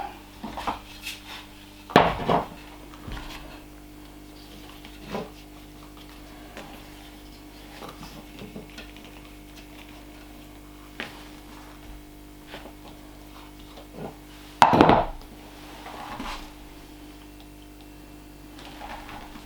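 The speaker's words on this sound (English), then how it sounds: "this will be riveted here." Rivets are set on a handmade leather axe sheath: two sharp, loud strikes land about thirteen seconds apart, with faint handling and small taps in between and no speech.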